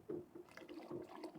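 Cold water poured into a pot of freshly boiled water while making rice vadam batter, a brief, soft, uneven gurgling splash close by.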